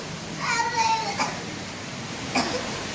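A voice with a brief cough or throat-clearing sound near the start, followed by another short burst moments later, close and fairly loud.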